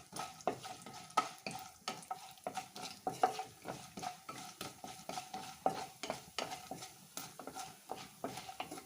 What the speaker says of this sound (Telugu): మినప్పప్పు, కొంచెం జీలకర్ర, కొద్దిగా ఆవాలు. సో ఇవి బాగా మనం ఫ్రై చేసుకోవాలండి.